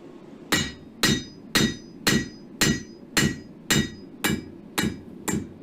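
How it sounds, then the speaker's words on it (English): A hammer taps a forged square steel bar in ten evenly spaced, ringing metallic strikes. Each blow is crisp and close, with no talk. "if you tap it like that, try to get the bandsaw marks off this one."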